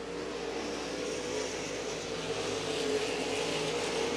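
RaceSaver sprint cars race at Eagle Raceway, a steady wash of engine roar from several cars at a distance, continuous and loud without breaks.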